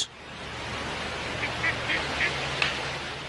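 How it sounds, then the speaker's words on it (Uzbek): Ducks on a pond give several faint, distant quacks in short bursts over a steady outdoor background hum, with one sharp click near the start. "o'rdaklarga to'la hovuz."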